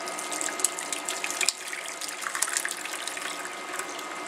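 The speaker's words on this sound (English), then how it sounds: "I'm just going to pour this into there." Cheese curds and whey pour into a cloth-lined strainer while homemade cheese is made off-grid, giving a continuous close splashing gush of liquid that runs without pause and without talk.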